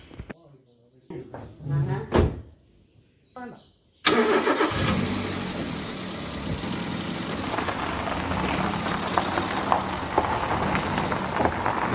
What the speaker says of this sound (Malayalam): ഇനി നമുക്ക് വണ്ടി ഇറക്കിക്കൊണ്ട് പോകാം